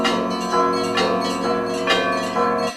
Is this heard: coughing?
no